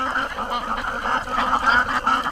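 Egg-laying ducks in their pen quack repeatedly in a busy overlapping chorus, close and moderately loud with no talking.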